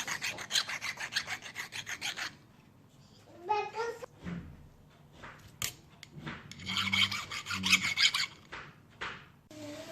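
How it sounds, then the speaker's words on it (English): Hand filing on a small metal screwdriver ratchet part held against wood, a dense run of rapid rasping strokes up front, then a pause and more scraping bursts later, with a voice talking intermittently. "Now I need filing because still the hole is small"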